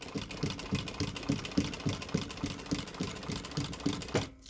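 A sewing machine top stitching a messenger bag runs quietly in a steady, even rhythm of mechanical pulses, then stops just before the end. No one speaks.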